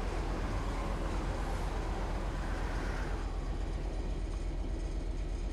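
A train passes in a train simulator game on a Southeastern high-speed line, producing a broad, steady rushing roar with low rumble that eases slightly partway through, with no talking.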